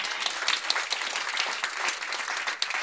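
Brisk, continuous hand clapping from the audience at a clergy fellowship dinner, a crisp crowd applause holding steady with scattered sharper claps and no talk.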